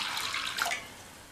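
A cup of water being poured into a kadai of soaked moong dal, a short soft splashing gush that fades out after about a second. The sound is close, with no voices.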